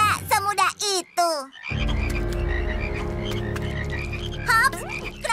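Cartoon frogs croaking in a loud, dense chorus of overlapping croaks that swells after a short silence, with a few higher squeaky frog calls at the start and end.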